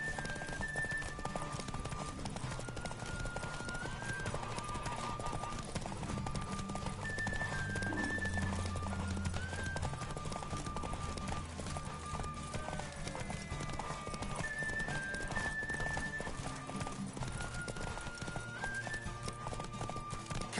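Roach the horse in The Witcher 3 gallops with a steady, rapid clip-clop of hooves throughout, heard alongside game music with sustained tones.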